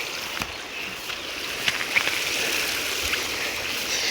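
Steady rushing water flows continuously through an irrigation channel nearby, a broad even wash of sound with a few faint splashes and no voices.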